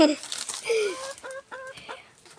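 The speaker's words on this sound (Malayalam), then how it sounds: "കോഴികൾ കുറേ ഉണ്ട് ഇഷ്ടംപോലെ കോഴികളുണ്ട്" Several chickens cluck and squawk nearby in short bursts, a busy farmyard chatter with no clear talking.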